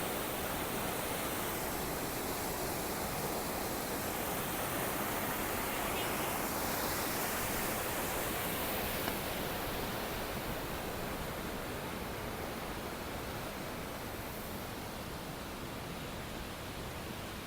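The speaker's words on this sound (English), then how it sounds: "Best waterfall yet, right at the end." A waterfall at the end of the Eiger Trail near Kleine Scheidegg in Switzerland roars as a steady, broad rush of water, loud and continuous with no other sounds over it.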